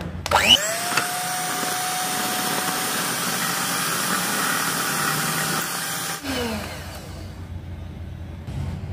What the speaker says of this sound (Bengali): বাটারটাকে এবার একটু ব্লেন্ড করে নেব।